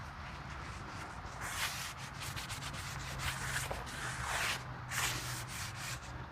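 Metal scraper raking food residue across a hot 17-inch Blackstone flat-top griddle toward the grease drain, a steady close scraping and rubbing with repeated strokes over a low hum.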